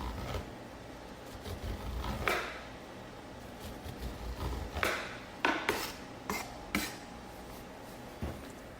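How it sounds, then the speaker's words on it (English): A knife slicing along an ear of corn on a cutting board in a home kitchen, scattered soft thuds and scraping clicks at irregular intervals, close but quiet with no talking. "what I'm doing first is I'm going to create a flat edge for the corn"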